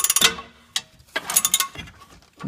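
A ratchet tightens the 24 mm and 21 mm bolts on Ford Mustang caster/camber plates, giving short bursts of rapid metallic clicking separated by pauses, close and fairly crisp.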